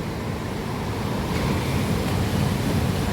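Rough stormy sea churning close by, a loud continuous roar of surf with wind buffeting the microphone, no voices.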